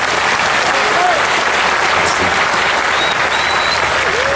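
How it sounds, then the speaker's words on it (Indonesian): Sustained applause from an Islamic lecture audience in Indonesia, a dense, steady wash of clapping that holds at an even, loud level throughout, with a few faint voices and whistles mixed in. "ayo tepuk tangan dulu."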